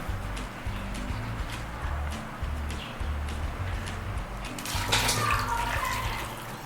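Rice being washed by hand in a bowl of water, a steady sloshing and swishing close by, with a brief louder splash near the end.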